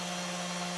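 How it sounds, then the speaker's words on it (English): Diamond drill bit grinding slowly into a seafoam sea glass piece at low RPM, a steady close whir with a constant motor hum and faint grinding texture throughout. "the drill bit, the little pieces of diamond bits are gripping more and they're biting more at the lower RPM level"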